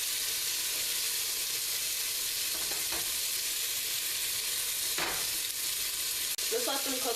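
Oxtails brown in oil in a pan, giving a steady, close sizzle and frying hiss with occasional stirring scrapes, and no talking over it.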